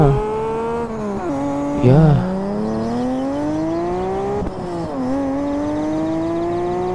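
A police box truck drives in a video game, its engine drone rising and falling in pitch through gear shifts and steady acceleration, loud and close, with one brief spoken word.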